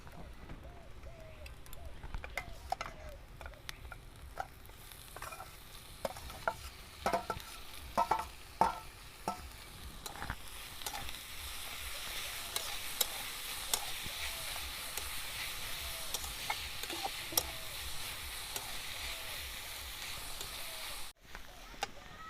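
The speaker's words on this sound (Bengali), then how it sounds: "আমার লাল শাক ভাজা হয়ে গেছে, এরপর নামিয়ে নেব।" Red amaranth leaves fry with onions in a hot pan, a steady sizzle broken by repeated scraping and clattering strokes of a spatula as the greens are stirred.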